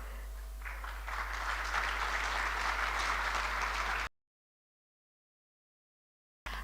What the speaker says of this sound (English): stand so you can give her a hand of applause